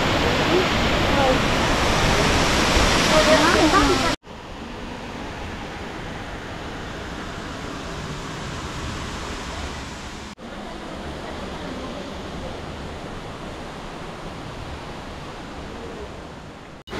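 Water rushing over Wawa Dam in Montalban, Rizal, a loud, steady roar of falling water that continues through the whole stretch with no breaks.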